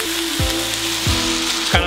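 Gravy poured onto Philly cheesesteak meat frying in a pan raises a loud, steady sizzle, broken by a few low scraping strokes of a spatula, with no speech.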